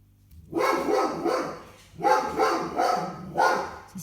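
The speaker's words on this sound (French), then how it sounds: "Le chien du voisin jappe" A dog barks in three short bursts of rough, rapid barks, fairly close, with brief pauses between them.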